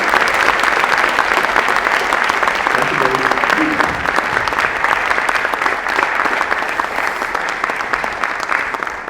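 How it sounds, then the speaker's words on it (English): A lecture audience gives a speaker a round of applause, loud dense clapping that carries on for about nine seconds, close and continuous with a faint voice briefly underneath. "Give him a round of applause."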